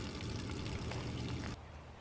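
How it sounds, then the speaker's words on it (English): Water drains from the bottom of a 2001 Ford Ranger radiator during a coolant flush, a steady close pouring splash that suddenly drops to a quieter trickle near the end, with no talk. "got clean water running out of the bottom of the radiator"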